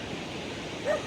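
At Playa Muerto in Darién National Park, Panama, one short dog bark sounds at a distance near the end, brief and fairly faint against soft outdoor background noise.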